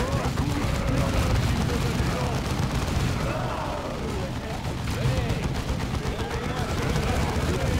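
Suppression gunfire in the Dawn of War II video game rattles on in dense, continuous bursts and booms, loud and unbroken, with voices mixed in beneath the shooting.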